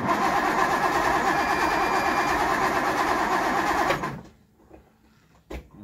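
The engine of a 1964 Triumph 2500 barn-find saloon cranks loudly and rhythmically for about four seconds without catching, then falls quiet, followed by a faint knock.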